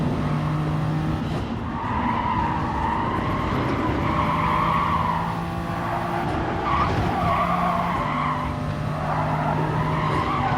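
Car tires skid and squeal under too much throttle in the Gran Turismo Sport racing game, with a steady engine drone running underneath. The screech stays loud and continuous throughout, with no talking.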